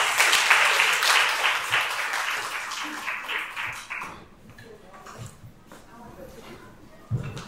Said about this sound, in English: Let's give her and our speakers a warm round of applause.